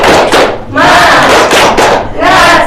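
Schoolchildren in a primary classroom perform a 'tepuk semangat' cheer, loud close group chanting in short bursts punctuated by rhythmic claps and thumps.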